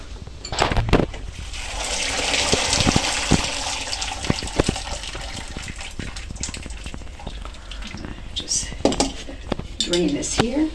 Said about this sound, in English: Draining my broccoli.